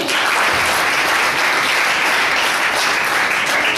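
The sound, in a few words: audience applause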